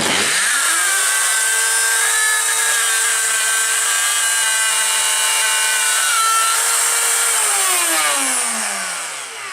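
A power saw spins up and cuts steadily through a camper door to make a lock opening, giving a loud, close, continuous high-pitched whine that winds down at the end.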